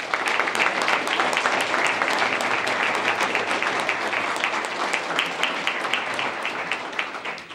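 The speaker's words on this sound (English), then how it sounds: "Please recognize our recipients of this evening with another round of applause." Audience applause at an annual police awards ceremony honoring recipients, a sustained dense round of many hands clapping that holds steady for several seconds and then begins to thin toward the end.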